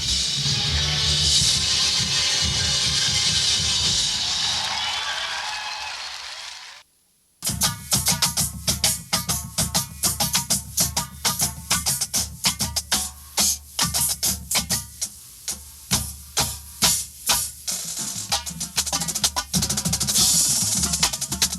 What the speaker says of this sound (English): the horns go from the rhythmic part that you're hearing right now